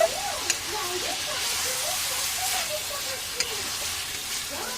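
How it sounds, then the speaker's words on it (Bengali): Meat frying in a pan with ginger, garlic, cumin and chilli gives a steady close sizzle throughout, broken by a couple of brief clinks of stirring. Speech-like tones sit faintly under it. "এবার সব কিছু একসঙ্গে ভালো করে কষিয়ে নেবে।"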